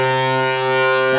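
A sustained synthesizer note from Phase Plant with the comb filter switched off, a steady, even tone with stacked harmonics holding at constant level throughout, alone with no other sound.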